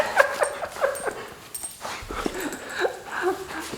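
A young pet dog whimpers and yips in short, high, repeated cries close by, with light rustling between them.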